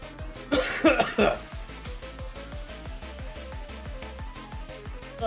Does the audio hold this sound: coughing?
yes